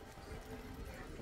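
A horse gallops in Warframe's Duviri, a brief run of rhythmic hoofbeats, faint and quick, with a voice talking over it.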